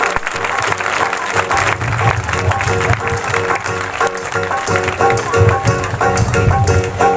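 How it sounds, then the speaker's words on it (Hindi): A congregation at an Easter church meeting claps together in a rhythmic beat, steady and fairly close, with music playing under it. "ताली बजाएंगे परमेश्वर के लिए।"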